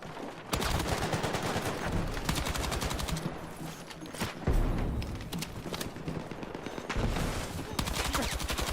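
Machine gun fire in the video game Battlefield 6 rattles in fast, sustained bursts with brief gaps and heavy thumps, loud and close throughout.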